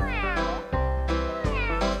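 A cat-like meow voice from a children's farm-animal song, three drawn-out, rising-and-falling cries in close succession, loud and close with no other sound around them.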